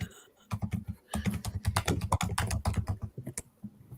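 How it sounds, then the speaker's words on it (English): Rapid typing on a computer keyboard, a dense run of crisp key clicks with short pauses between bursts, close and clear with no voices. "Some Fast and Furious typing."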